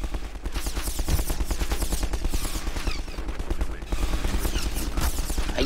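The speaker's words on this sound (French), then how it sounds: "mais je me fais tirer dessus" Dense, continuous automatic gunfire from Half-Life 2 combat, rapid bursts layered with explosions filling the whole stretch, loud and close with no talking over it.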